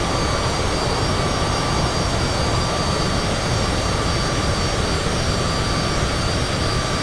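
Cessna CJ4 business jet taking off in Microsoft Flight Simulator 2020, a loud, steady, unbroken engine roar with a high whine, continuous throughout and without any talking.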